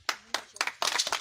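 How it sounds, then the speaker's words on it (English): A church audience at a Pentecostal gathering claps in short, uneven bursts of applause, loud and close, breaking off and starting again several times within a second. "Let's give them a big hand clap"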